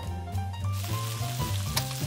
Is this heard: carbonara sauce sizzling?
yes